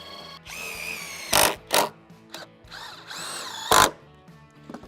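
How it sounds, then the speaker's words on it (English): A power drill drives screws into 2x6 boards while building a garden planter box, with several sharp, loud bursts of drilling separated by quieter gaps and mechanical whine, close to the microphone. "So I'm just gonna use screws here."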